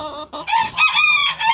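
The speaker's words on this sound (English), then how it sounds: "roosters, so loud" Young roosters kept in a crate crow loudly and close, a strained harsh call mixed with clucking, in one burst lasting under two seconds.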